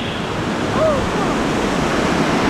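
Steady, loud rush of water pouring over a weir at Dunn Swamp in the Blue Mountains, a broad continuous roar with faint wind noise.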